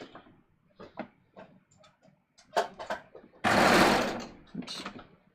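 A sewing machine runs a seam in one short loud burst of rapid stitching, set among scattered handling clicks and a voice talking.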